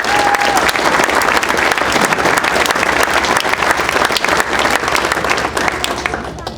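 Loud, continuous crowd applause fills a hall of fame ceremony for longtime athletics coaches, a thick roar of many clapping hands that barely varies before easing at the very end.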